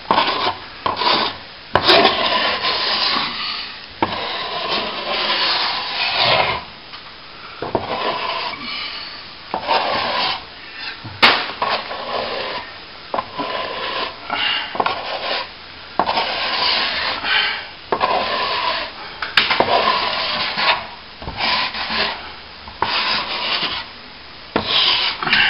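Hand tool rubbing and polishing a plaster wall patch during repair of flaking paint, a steady close rasping scrape in long repeated strokes with brief pauses between passes.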